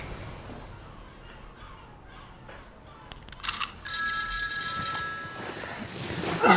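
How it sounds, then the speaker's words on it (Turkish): A telephone rings in a home during a tense family scene, a bright electronic ringtone starting partway through and continuing steadily at moderate loudness over faint background noise, with no talk. "Ne olur o telefona bakma."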